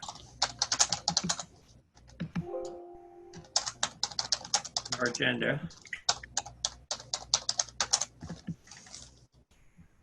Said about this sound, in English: I'm gonna mute you because your typing is so loud.